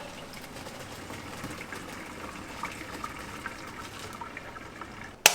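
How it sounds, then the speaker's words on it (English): Hot water draining off cooked macaroni through a strainer, a soft continuous watery gush and trickle at moderate distance, ending with a sharp metallic clank. "Now I'm going to take this off the stove here and put it into my strainer and strain all the"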